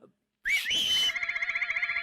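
Whistled answer attributed to a chameleon in a film scene: a sudden, close, bright whistle that slides upward, then settles into a warbling, trilled tone held for over a second.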